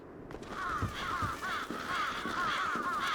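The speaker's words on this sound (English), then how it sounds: "Evil demon birds, oh no." Demon birds in the video game Bloodstained: Ritual of the Night caw repeatedly in harsh, raspy calls. The calls overlap in a steady flurry over game background sound, loud and close.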